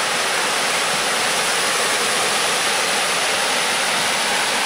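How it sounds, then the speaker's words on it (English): A clear, shallow stream runs steadily over rocks, its broadband rushing wash constant and close with no voices over it. "But this is a beautiful, clear stream."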